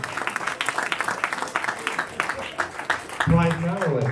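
Applause at a Rotary club meeting, a dense patter of clapping from the room that runs under someone talking throughout, with his voice growing louder near the end.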